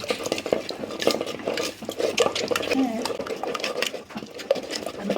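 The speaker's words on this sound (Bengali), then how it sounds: "তো আমি এখন এটাকে একটানা নেড়ে মিহিদানাটা বানিয়ে নিচ্ছি।" Egg mixture stirred continuously in a pan to make mihidana, a Bengali egg sweet, with steady scraping and clinking of a utensil against the pan, close and moderately loud, while someone talks over it.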